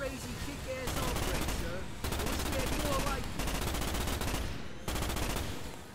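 Dense automatic gunfire in the Starship Troopers PC game, hard mode, fills the whole stretch in rapid continuous bursts, with brief gaps near the two-second and five-second marks, loud and close.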